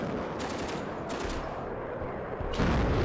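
Units trading fire in the real-time strategy game WARNO, a dense, continuous roar of shooting with sharper volleys bursting through at intervals.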